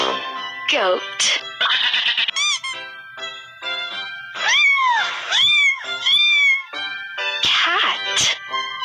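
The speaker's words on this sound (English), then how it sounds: "Cat." Cat meowing repeatedly and close, a run of loud rising and falling mews and squeaky cries with short gaps between them, no talk over it.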